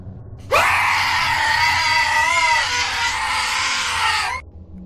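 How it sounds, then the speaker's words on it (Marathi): A woman's horrified scream cuts in abruptly and holds loud and sustained for about four seconds, high and strained with a wavering pitch, then stops sharply, like a horror story sound effect. "त्या स्त्रीचा भयानक किंचाळण्याचा आवाज"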